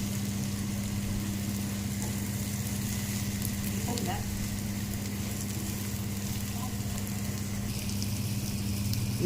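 Masala sizzles steadily in oil in a pan, a loud, continuous frying hiss with a low hum underneath and only faint, occasional stirring scrapes, with no talking.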